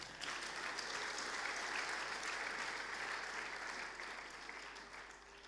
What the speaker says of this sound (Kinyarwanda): Muhereze Imana amashyi menshi cyane